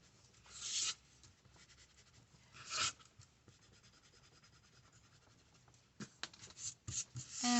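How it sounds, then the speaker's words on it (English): Pencil markings are erased from paper during junk journal tag crafting, with short bursts of close, scratchy rubbing separated by quieter pauses. "you gotta go take off all of your pencil markings"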